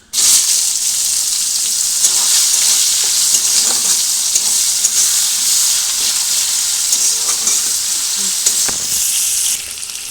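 Chopped onions hit hot oil tempered with cinnamon, cloves, bay leaf, cardamom, cumin and dried red chillies, giving a loud, continuous close-up sizzle with faint stirring knocks that drops off slightly near the end.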